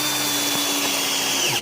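A power drill runs steadily at high speed for under two seconds, a close, loud whine that winds down abruptly at the end.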